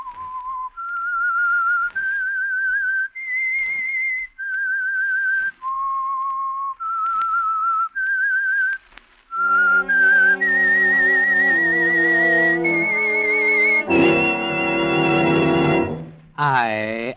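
A lone whistler carries a slow, melancholy tune opening the radio drama The Whistler, each note held steadily, before swelling orchestral music with strings and brass takes over.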